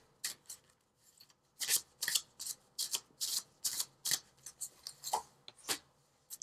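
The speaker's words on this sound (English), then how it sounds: "let's pull from the Noah Knafo deck, the visionary cards" A deck of oracle cards being shuffled by hand, a close series of crisp riffling bursts in an uneven rhythm, with short pauses between them and no speech.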